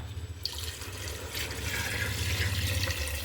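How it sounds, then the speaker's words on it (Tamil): Water is poured into a pot for a country chicken bone soup, starting abruptly after a short pause and continuing as a steady splashing fill, close and clear without talk. "தேவையான அளவு தண்ணி ஊற்றிக்கலாம்."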